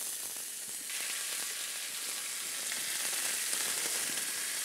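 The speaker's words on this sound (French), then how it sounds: "Je les sale pour le moment uniquement d'un côté et je mets ensuite le côté salé dans la poêle." Pork tenderloin fillets, salted on one side, frying in a pan, a soft, continuous sizzle that grows fuller after the first second and holds steady, with no talk.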